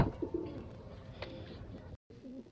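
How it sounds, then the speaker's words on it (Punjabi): Pigeons softly cooing in a rooftop loft, a couple of low coos close by amid quiet rustling, briefly cut by a moment of silence. "ਇਸ ਖੁੱਡੇ ਦੇ ਵਿੱਚ ਆਪਾਂ ਛੱਡਾਂਗੇ ਆਪਣੇ ਕਬੂਤਰਾਂ ਨੂੰ"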